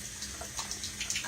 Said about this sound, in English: I rinse it really good in this really hot, super hot water right here.